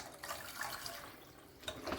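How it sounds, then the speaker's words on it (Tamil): Water poured into a simmering tamarind fish curry in a home kitchen, a soft splashing pour rising and falling, fairly faint and close. "குழம்புக்கு தேவையான தண்ணி சேர்த்துக்கலாம்"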